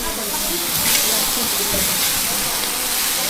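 Local vegetables stir-fry in a small amount of oil with a continuous close hiss and sizzle that holds steady throughout, without pauses.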